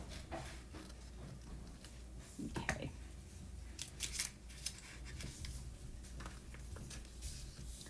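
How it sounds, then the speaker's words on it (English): Scissors make a series of soft, close, crisp snips as they trim the excess paper from around the shape of an envelope. The cutting is quiet and comes in short bursts, with no talk over it. "just clip this, just follow the shape of the envelope and just go straight down like that"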